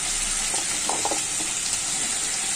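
Thickly cut potatoes frying in a pan give a continuous, moderately quiet sizzle with a few soft bubbling pops over a steady hiss, no voices.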